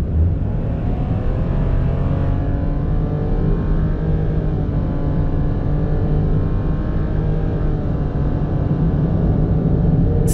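Nissan Roox kei car with CVT engine accelerating hard on a highway from 60 to 120 km/h, a loud steady engine drone rising in pitch with stepped shift-like changes, continuous throughout with no talk.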